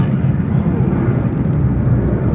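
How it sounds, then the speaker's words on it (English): Loud airplanes roar overhead outside a parked 1962 Rolls Royce, a steady deep rumbling drone that fills the whole moment without letup. "There must be some crazy airplanes going on out there because it is loud."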